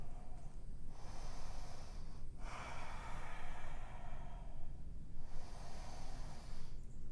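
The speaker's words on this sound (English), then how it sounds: "Deep breathing." Deep, slow breathing during an intermediate yoga practice, with long airy inhales and exhales in a steady rhythm, close and fairly loud, with no talking.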